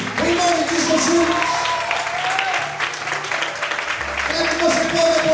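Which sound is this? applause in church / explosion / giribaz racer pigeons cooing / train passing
applause in church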